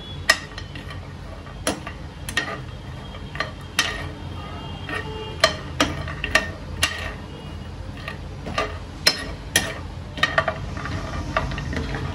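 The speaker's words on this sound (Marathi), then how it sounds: "मी आता बदाम आणि काजू टाकते. ह्याला थोडस मी रोस्ट करून घेते एकदम स्लो गॅसवर" Almonds and cashews roasting in a pan over a low flame, a quiet background with sparse sharp ticks and clicks of nuts shifting against the metal pan, spaced irregularly every second or so.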